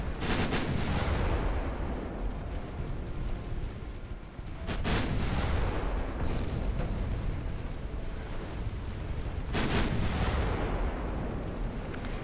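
Mark II 2-inch naval guns in Ultimate Admiral Dreadnoughts boom continuously in a heavy, rumbling barrage, with sharper cracks standing out near five and ten seconds.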